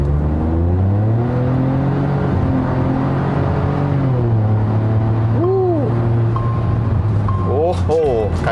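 A modified Proton X50 in sport mode pulls under throttle with a deep, steady exhaust drone whose pitch swells and dips, heard loud from inside the cabin, with short squeaky chirps near the end.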